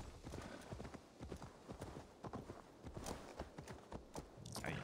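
Steady clip-clop of horse hooves in Assassin's Creed Valhalla at a brisk rhythm, close and fairly quiet, with a brief whinny near the end.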